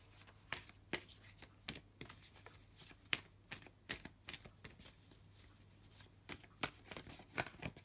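Tarot cards are shuffled in repeated quick riffling bursts with brief pauses between them, close and fairly quiet, with no talking.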